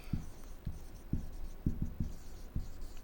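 Equations are handwritten on a surface, producing soft, close scratching strokes in an irregular series of short taps and scrapes over a quiet background.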